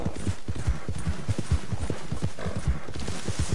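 Horse hooves clip-clop in a quick, steady rhythm as a rider moves through a town in the Western game Red Dead Redemption 2, loud and continuous with no talk over them.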